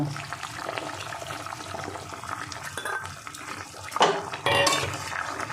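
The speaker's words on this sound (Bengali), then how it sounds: "মুইঠা দিয়ে আমি 2 মিনিট ফুটিয়ে নেব" Muitha dumplings slipped into liquid boiling in an uncovered pot: watery bubbling and sloshing with clinks of a utensil against the pot, and a sharper splash near the end.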